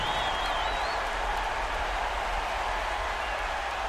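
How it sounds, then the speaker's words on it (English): Basketball arena crowd in the NBA 2K15 video game, a steady broad roar of cheering and applause sustained throughout, fairly loud and unbroken, with a faint whistle-like tone near the start. "This crowd was stunned at the sight of that one."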